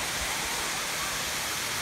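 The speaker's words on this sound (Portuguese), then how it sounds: "Toda a imponência, a cachoeira alta." A tall waterfall roars as a dense, steady broadband rush with no pauses, loud and continuous like close falling water, with a voice faintly present under the noise.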